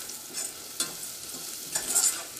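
Turmeric powder frying in oil for a green peas curry, a soft steady sizzle close by with a couple of stirring scrapes, quiet and brief with no speech.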